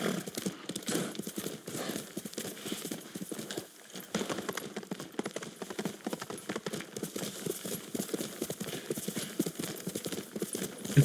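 Steady clip-clop of horse hooves at a walking pace in the video game Ghost of Tsushima runs throughout, fairly close, with a brief lull near the four-second mark.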